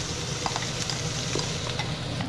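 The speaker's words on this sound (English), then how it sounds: "I got my julienne onion. That's going in first." Julienned onion sizzles steadily in a hot pan, a close, even hiss with a few soft stirring clicks and scrapes scattered through it, no voices.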